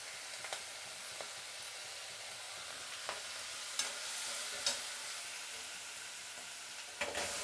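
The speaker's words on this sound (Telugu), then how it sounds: "పచ్చిమిరపకాయలు కొద్దిగా వేగిన తర్వాత టమాటా వేద్దాం. ఇప్పుడు టమాటా వేసుకుందాం." Tomatoes and green chillies fry in oil in a pan, giving a continuous bright sizzle with occasional scrapes and taps of a spoon as they are stirred.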